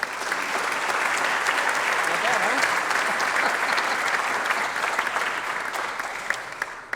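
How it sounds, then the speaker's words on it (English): An audience at a chamber of commerce small business awards event applauds in a loud, sustained wash of clapping that swells and then tapers off, with a voice briefly speaking near the end. "Give a round of applause"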